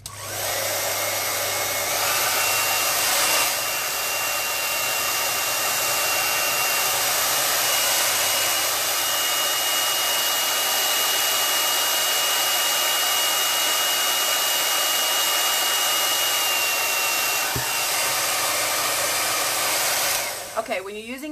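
A handheld blow dryer fitted with an oversized plug runs continuously at a loud, steady whooshing roar, close and unbroken for the whole stretch, with a faint thump near the end.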